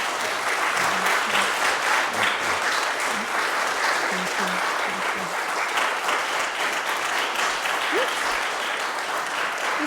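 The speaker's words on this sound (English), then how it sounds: "please let us thank you with at least one round of applause" Members at an annual meeting give a long round of applause. The many hands clap in a steady, unbroken wash for about ten seconds.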